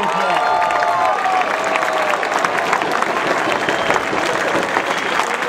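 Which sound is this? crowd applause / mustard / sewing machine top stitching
crowd applause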